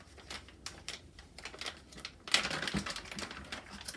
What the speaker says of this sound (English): Let's go ahead and dump this out and see what's in there.